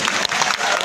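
Audience applause fills an exhibition volleyball match between China's women's team and a Hong Kong youth side, a steady dense clapping that holds loud and close for the whole short stretch.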